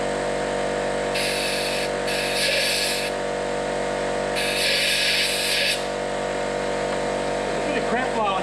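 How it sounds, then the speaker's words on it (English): Compressed air hissing into a spark plug hole on an 80 Series Toyota Landcruiser engine, heard as three strong bursts of blowing over a steady background hum, close and loud. "Bit of compressed air, see if we can blow anything out."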